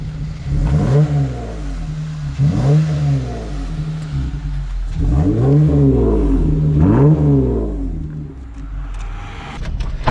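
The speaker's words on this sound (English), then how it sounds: "Give it a rev real quick." A Jeep Gladiator with a full aftermarket exhaust revs up four times in rising, swelling bursts over a steady idle, loud and close, with no talking.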